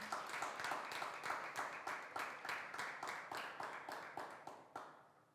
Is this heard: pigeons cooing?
no